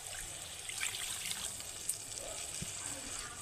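Water runs and trickles into a bowl as yogurt residue is rinsed out, a soft steady flow with light splashes, heard while cooking a potol and prawn curry.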